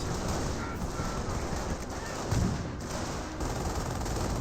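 Gunfire in the World War II strategy game Company of Heroes: dense crackling bursts of small-arms fire with one heavier thud.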